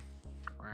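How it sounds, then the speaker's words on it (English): A single short nasal duck quack sounds once over a steady low hum, close and clear, with no talking. "Sounds like a duck at this end."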